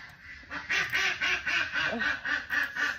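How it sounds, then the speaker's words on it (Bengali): Ducks quack repeatedly in quick succession, loud and close, a rhythmic chorus of nasal calls lasting the whole stretch. "চলো আগে হাঁসগুলো বের করি"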